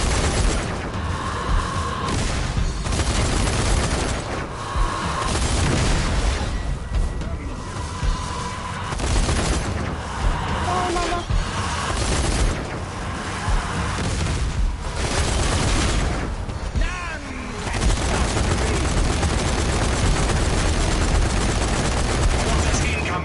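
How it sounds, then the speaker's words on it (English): Mortar blasts and gunfire in the zombie shooter Zombie Army 4, a dense, continuous barrage of booms and shots with voices talking over the chaotic game mix. "Mortars incoming."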